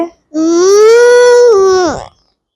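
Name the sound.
child imitating elephant trumpet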